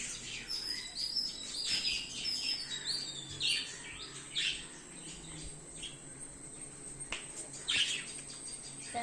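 Small caged pet birds on a terrace chirping and twittering repeatedly at close range, over a faint background hum of insects.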